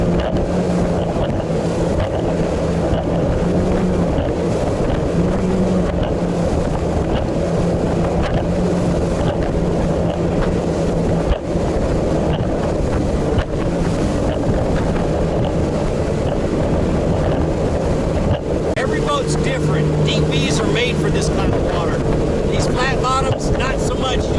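A motorboat with a modified-V hull runs over waves, its steady engine drone mixed with constant wind and water rush. Splashing and gusts grow toward the end.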